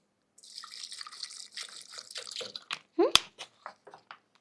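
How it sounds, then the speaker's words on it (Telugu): Water splashes into a blender jar, then trickles off into a few scattered drips that fade into quiet. "సో ఇందులో కొంచెం వాటర్ వేయండి"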